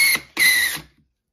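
A cartridge trimmer whirs in two quick, close bursts, chamfering and deburring the mouth of a brass cartridge case for reloading, with a bright metallic whine before the sound cuts off.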